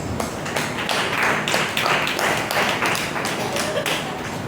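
A church congregation claps hands in rhythm during a Tamil Sunday sermon, giving a steady run of sharp, evenly spaced claps with a voice faintly beneath.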